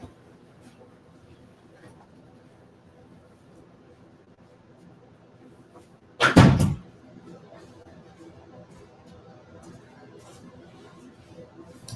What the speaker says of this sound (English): I had to close my door because I'm filming